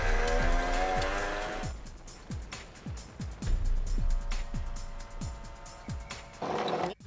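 Car braking hard with tires squealing during stunt driving, engine noise and repeated sharp screeches that rise and fall, fairly loud with no talk.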